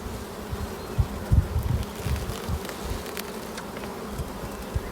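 Honeybees hum steadily from an open hive during a brood-frame inspection, a close, dense buzz with small bumps and clicks from handling, and no talking.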